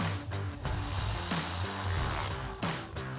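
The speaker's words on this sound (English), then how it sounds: "I'm going to take an 8mm socket, a socket extension and a ratchet." Ratchet with an 8mm socket and extension tightening a hose clamp during an ignition tune-up on a RAM 1500, giving repeated close clicking pawl sweeps in short bursts with brief pauses between strokes.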